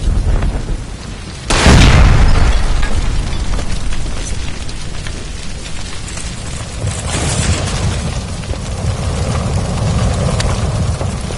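A gas line blows up by a stove in the video game L.A. Noire, a sudden loud boom at about 1.6 seconds that rolls into a long rumbling roar and crackle lasting through the rest of the scene.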